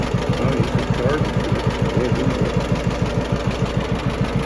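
A John Deere B tractor's two-cylinder engine runs close by at a steady idle, its loud, even low-pitched putt-putt beat continuing without a break.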